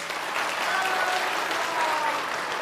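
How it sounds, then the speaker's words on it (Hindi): Audience applause at a religious gathering, a steady, dense wash of clapping from a crowd that fills the whole moment without pause. "पढ़ पाए हो तो ताली बजा दीजिए।"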